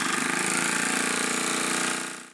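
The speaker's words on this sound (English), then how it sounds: "I decided to test the engine again the next day, and well, it fired up perfectly." A homemade air engine runs in a fast, steady buzzing chug, close and loud, before tapering off at the very end.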